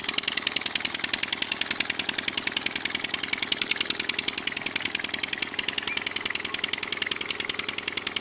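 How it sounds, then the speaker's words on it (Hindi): Close and loud, a Petter engine chugs with a fast, regular mechanical pounding as it pumps irrigation water onto a rice crop, steady throughout and with no voices. "ये है पीटर इंजन और ये किसान चावल की फसल को पानी लगाने के लिए पानी छोड़ रहा है।"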